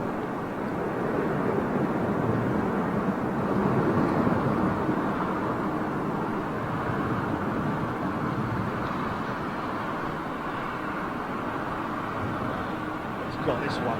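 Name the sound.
airliner landing in strong wind at London Heathrow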